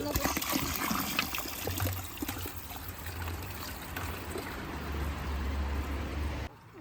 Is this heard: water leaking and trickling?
yes